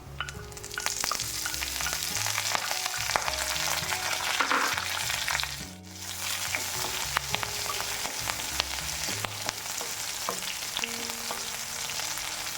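Chopped green chilies fry in a pan for a Kerala-style ginger pachadi, making a continuous crackling sizzle with occasional stirring scrapes over soft background music.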